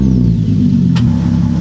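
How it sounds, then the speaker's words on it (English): A Nissan 370Z Nismo V6 engine rumbles loud and deep, steadily at idle with no muffler, close up, with one brief sharp click partway through. "let's get a startup of what it sounds like without a muffler"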